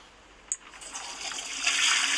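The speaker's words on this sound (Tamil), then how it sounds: "இன்னொரு வாட்டி ஃப்ளஷ் பண்ணலன்னா எனக்கு ஆத்தம் தீராதுடா" A toilet flush rushes in after a short click, the water swelling into a steady hissing gush that grows louder toward the end, with no voices.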